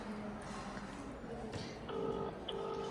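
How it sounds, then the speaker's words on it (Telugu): A phone number is keyed into a mobile phone, giving a couple of short, distinct keypad beeps amid faint voices and background rustle. "ఇప్పుడు యశ్వంత్ వాళ్ళ మమ్మీకి ఫోన్ చేస్తున్నాం."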